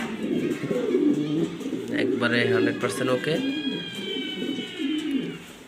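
Black exhibition pigeons, a pair, coo in low throaty rolls that continue under a man's nearby speech.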